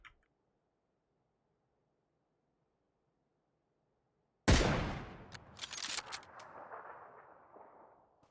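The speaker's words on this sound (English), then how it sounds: "Now, who or what were they shooting at?" Gunfire in the battle royale game PUBG: after several seconds of near silence, a sudden loud burst of shots rings out, followed by a few more scattered reports and a fading echoing tail.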